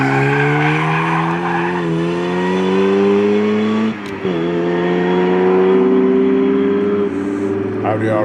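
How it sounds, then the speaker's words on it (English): A supercharged Ariel Atom sports car on a sprint course. The engine revs hard, rising and falling as it shifts gears, with loud close sustained roar and a brief gear-change dip. "That supercharged aerial atom sounds amazing."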